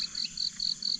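Crickets kept as fishing bait in a cage chirp in a steady series of high, pulsing trills, five bursts close by at moderate loudness with no voices.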